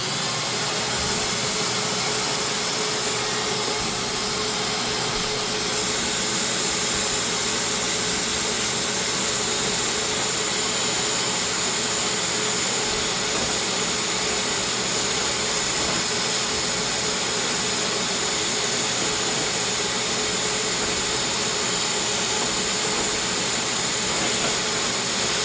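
A wet/dry vacuum runs steadily throughout, a loud, continuous whooshing drone with a hissy high edge and no breaks.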